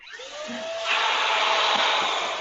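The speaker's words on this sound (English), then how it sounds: "my vacuum cleaner" A vacuum cleaner runs steadily, its motor whine rising and broadening as suction increases partway through, loud and close with no talk.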